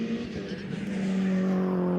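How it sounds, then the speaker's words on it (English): Race cars in a Mini Challenge JCW championship round lap the Snetterton circuit, their engines droning loud and steady for the whole stretch, with a sustained tonal whine that rises slightly as the cars pass. "cars continue on their way around."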